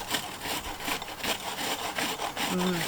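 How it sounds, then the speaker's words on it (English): Onion rubbed over the large side of a grater, a close, steady rasping scrape repeated in quick even strokes, with no talking. "on the large grated side there, you just take your onion and start grating it"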